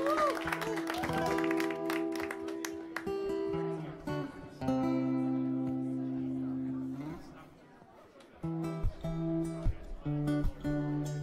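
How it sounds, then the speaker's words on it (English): Audience at a comedy night applauding to welcome comedian James Scrivener, a steady wash of clapping and crowd chatter running under music and an announcer's voice for several seconds before fading. "please show generous applause and make this guy feel welcome"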